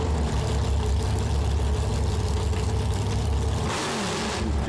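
A racing boat engine with no mufflers revs hard and loud, a continuous roaring drone that surges in pitch toward the end.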